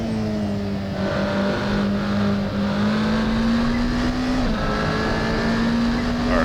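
Tuned, modded car engine drones steadily in a racing video game, its pitch holding fairly constant through a corner, then rising slightly as the car powers out; loud and continuous with no talking.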